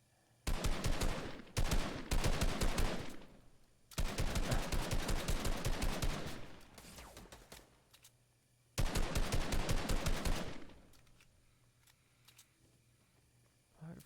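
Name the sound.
gunfire in an online shooter video game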